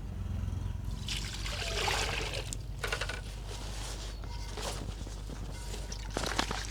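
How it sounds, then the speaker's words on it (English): Wrapping leaves for moi-moi being rinsed by hand in a basin of salted water outdoors in an African village, with steady close splashing, trickling and sloshing that swells and eases over several seconds, no talking. "rinsing my leaf that I'm going to be using to wrap the moi-moi"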